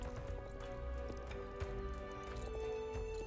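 Horse hooves clip-clop at a quick, uneven rhythm as several horses gallop in the online horse game Star Stable Online, heard fairly faint over a steady game music bed.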